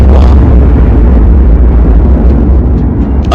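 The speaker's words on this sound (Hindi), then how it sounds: "बीच के इस भयंकर दबाव के कारण एक विशाल विस्फोट हुआ" A huge explosion sound effect for the birth of the sun: a loud, continuous deep roaring blast with heavy low rumble that fills the whole stretch without pause, then tapers slightly at the end.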